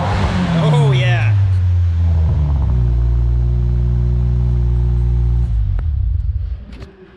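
A 2022 Subaru WRX with a custom GrimmSpeed exhaust revs up close, its engine note dropping into a steady, deep burble that holds for several seconds before cutting off.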